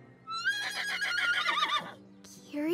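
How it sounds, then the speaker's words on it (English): A cartoon horse lets out a loud, close, wavering whinny that rises and trembles for over a second before cutting off, followed by a brief voiced sound. "I've got just the brew for those neighs"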